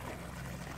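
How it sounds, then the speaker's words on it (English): Artesian spring water flowing steadily out of the ground at a forest day-use area, a continuous low pouring and trickling wash, close and even, with no talk. "It's spring water coming out of the ground."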